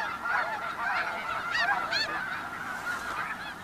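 Several geese honk repeatedly at close range in the Arctic, overlapping calls rising and falling in quick bursts over a faint outdoor background.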